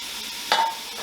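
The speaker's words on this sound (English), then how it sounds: "Then I'm going to go ahead and add my Trinity to the pot." Trinity vegetables for red beans and rice drop into a hot pot with a sudden burst of sizzling and stirring, close and fairly loud after a quiet stretch, with a second flare near the end.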